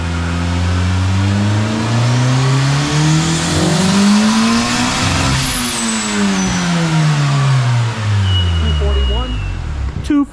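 Turbocharged Honda K20 engine in a CRX screaming through a dyno pull with VTEC, revs sweeping steadily up to a peak, dropping briefly at a shift, then climbing again before cutting off, loud and close throughout.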